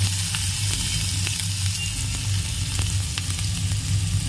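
Chopped ginger pieces frying in oil in a pan, a steady loud sizzle with faint scattered stirring taps, continuous and close.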